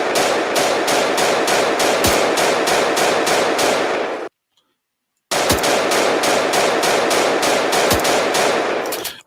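Rapid, loud automatic AK rifle fire from a video game comes in two long sustained bursts split by a second of silence, each shot evenly spaced in a fast rhythm.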